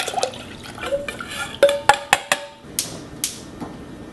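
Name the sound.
liquid poured into a pot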